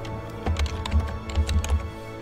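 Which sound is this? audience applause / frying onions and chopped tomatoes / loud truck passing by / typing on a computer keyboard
typing on a computer keyboard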